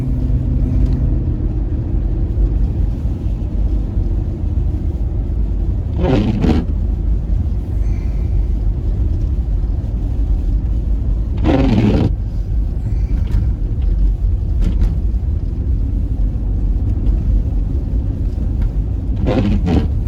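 A car creeps along at low speed through a whiteout snow blizzard, its engine and road noise a constant heavy rumble, with a few brief whooshing gusts of wind buffeting the microphone.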